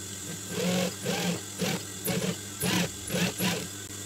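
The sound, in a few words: sewing fabric for a sweater hat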